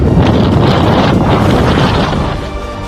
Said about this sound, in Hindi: तेज हवाओं के कारण बैरिकेड्स और छतरियां उड़ गईं